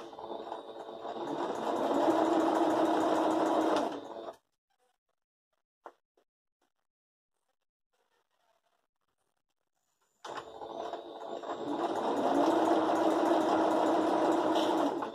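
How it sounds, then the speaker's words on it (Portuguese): Sewing machine stitching the edge of a patchwork fabric placemat with the presser foot, loud and steady in two bursts of about four and five seconds separated by near silence. "Ó, um pezinho de máquina beirando aqui. Nós vamos costurar aqui."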